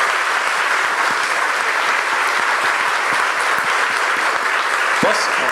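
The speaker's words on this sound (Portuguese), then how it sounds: "eu queria novamente pedir uma grande salva de palmas para os nossos 3 palestrantes" An audience at a Luso-Brazilian tax auditors' congress gives a big round of applause for three speakers, a dense, even roar of clapping that stays steady and loud throughout.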